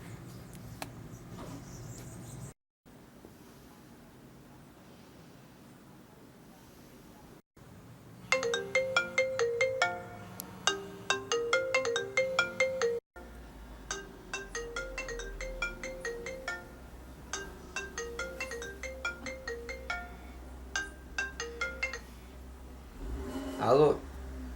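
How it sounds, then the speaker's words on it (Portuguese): A telephone rings out while a call is being placed, a repeating electronic ringtone pattern in close, regular bursts after a few quiet gaps, with a voice briefly heard near the end. "Eu preciso ligar pro Beto."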